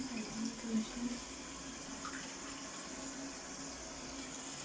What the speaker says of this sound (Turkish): içerisine şöyle biraz su koyacağım